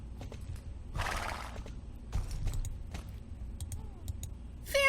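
A horse in the Star Stable video game whinnies loudly near the start, followed by scattered hoof clicks and small taps, close and clear with no talk.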